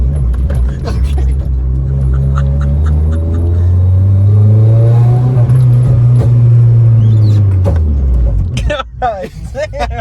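Engine of an 8th-generation Honda Civic Si revving up under throttle, a loud sustained rise and fall in pitch over several seconds, with people talking near the car.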